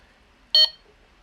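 A Delkim Rx-D bite alarm receiver sounds a single short, loud electronic beep while its button is held, set against a quiet background.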